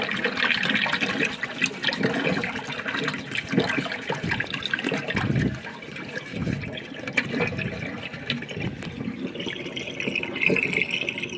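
Water swirling and draining down a sink in a whirlpool, a steady close gurgling rush of liquid that holds on throughout with small surges and dips.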